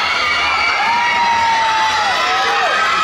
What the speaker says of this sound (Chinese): 掌声欢迎我们的老师们！